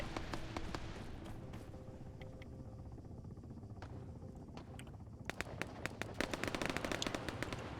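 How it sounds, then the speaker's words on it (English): Rapid machine gun bursts in a Russian airborne invasion military video game, steady crackling fire throughout that grows louder and denser near the end, with no talk over it. "So that's them firing at Lucky's body, I bet."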